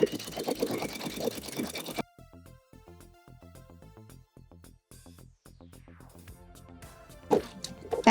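Sewing machine stitching a neckline curve with a half-inch seam allowance on a shift dress, a fast mechanical whir that pauses briefly and resumes, stopping and starting with faint handling noises at the edges.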